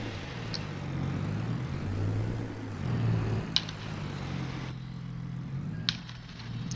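A vintage tractor engine idles steadily in Farming Simulator 22, a low throbbing drone that runs throughout, with a few faint clicks over it.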